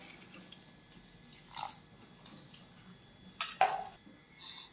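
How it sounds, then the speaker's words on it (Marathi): Water dripping and splashing as two bowls of flattened rice (poha) are rinsed clean in a kitchen, with soft clinks of a bowl and a louder swish of water near the end, close and fairly quiet. "ते आता आपण स्वच्छ धुवून घेऊयात।"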